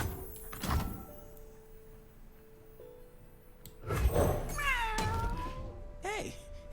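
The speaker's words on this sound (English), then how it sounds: "Hey, if it isn't that cat I rescued this morning." A cat meows in the card game Legends of Runeterra, with a few bright, rising and falling calls clustered near the end, mixed with game sound effects and voice lines.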